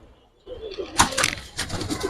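Two male Giribaz pigeons coo in a short, close burst that starts after a brief silence, with a sharp rustle near the start and uneven throaty calls continuing to the end.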